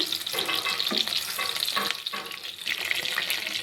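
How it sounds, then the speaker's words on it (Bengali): Pieces of boal fish fry lightly in hot oil, a steady close crackling sizzle with occasional stirring scrapes, faint and without talk. "মাছগুলোকে আমি খুব বেশি লাল করে ভাজবো না, হালকা করে ভেজে নেব।"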